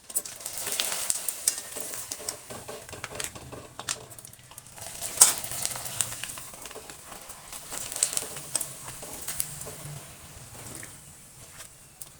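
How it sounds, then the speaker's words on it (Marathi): Ragi papad frying in hot oil in a home kitchen, a steady close sizzle and crackle throughout with occasional utensil clinks and stirring. "आता मी तुम्हाला तळून दाखवते."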